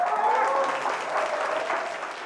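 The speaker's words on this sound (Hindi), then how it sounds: "जोरदार तालियों से स्वागत कीजिए" A crowd at a staged event in a TV crime drama applauds to welcome a female singer, a loud, continuous wash of clapping with faint tones and murmurs beneath.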